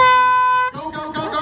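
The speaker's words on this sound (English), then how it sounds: "I need a volunteer who's going to blast the air horn." A loud, steady air horn blast starting a 5K inflatable obstacle race wave holds for well over half a second, then cuts off, leaving a jumble of voices and crowd noise.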